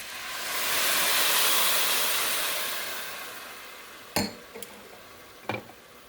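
Dry white wine poured from a glass into a hot risotto pan with shiitake mushrooms and onion, a rising then fading sizzling pour followed by a few sharp clinks of glass or utensil against the pan.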